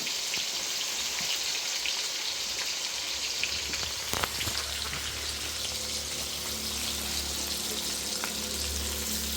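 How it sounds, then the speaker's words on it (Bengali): Sliced onions fry in hot oil for beresta, making a loud, steady hiss and crackle that fills the whole clip, close up, with a few spatters and a brief knock of a utensil. "সোনু পেঁয়াজ দিচ্ছে পেঁয়াজ বেরেস্তা করার জন্য"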